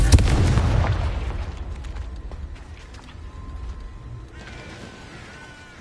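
A Confringo blasting spell detonates in Hogwarts Legacy, a loud booming burst right at the start that decays into a fading rumble and crackle, followed by quieter game ambience.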